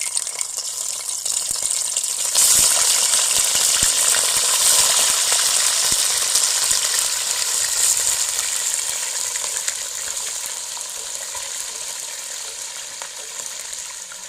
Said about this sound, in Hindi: चार से 5 मिनट तक चिकन को फ्राई कर लेंगे